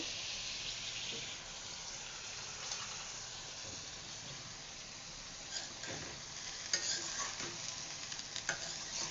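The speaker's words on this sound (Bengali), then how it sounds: "সকালের জন্য আলু ভাজি করতেছি।" Potatoes frying in a pan for a breakfast dish, a steady close sizzle with occasional scraping stirs and clinks of a utensil, running alone without talk.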